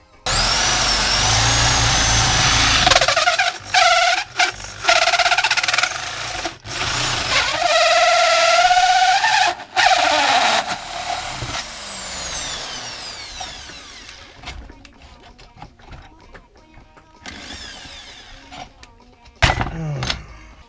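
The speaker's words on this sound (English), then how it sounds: "I'm just gonna get the other two ready and then start drilling those out." A loud power drill whines and revs in repeated bursts while drilling gauge holes in a Ford Fiesta Mk6 centre console, its pitch rising and falling as it bites, with short pauses and a few clunks between runs.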